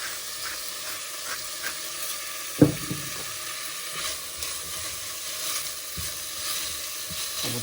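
Garlic fries in a pan for pork menudo with a steady close sizzle and hiss, plus light stirring scrapes and one sharp clack near the middle; nobody speaks.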